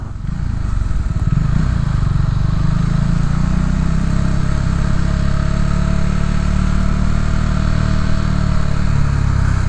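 Motorcycle riding along a Chicago road, the engine droning loud and close with a steady low rumble and wind rush that holds constant after a brief rise at the start.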